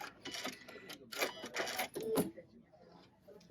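A sewing machine stitches a buttonhole on a shirt in short, faint mechanical bursts of rapid clatter separated by brief pauses, then quiets.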